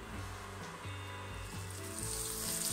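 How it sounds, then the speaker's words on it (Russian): Steady sizzling of liver pieces frying over medium heat in a hot oiled pan, continuous and close, with a dense crackling hiss and no voices. "На разогретую с маслом сковородку выкладываем кусочки печени и жарим на среднем огне минуты две до золотистой корочки."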